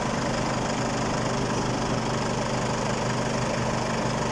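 An Isuzu D-MAX engine idles steadily after a water pump replacement, a close, loud, even rumble with a continuous mechanical hum and slight rhythmic knock.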